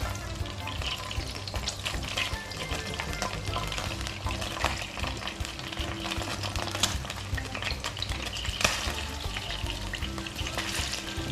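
Adobo searing in butter with mango over slow fire, a steady close sizzle and frying crackle with occasional stirring clinks.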